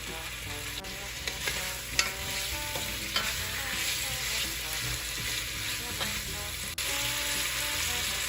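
Meat for jambalaya browns in a pan over medium-high heat, giving a steady close sizzle broken by repeated utensil scrapes and stirring clinks. No one speaks.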